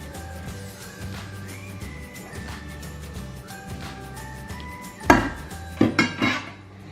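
Cooked taco bake meat and salsa go back into a pan, with a few clanks and scrapes of a utensil against the metal near the end, close and fairly loud over quiet background music.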